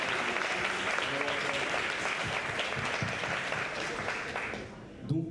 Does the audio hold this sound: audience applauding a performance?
yes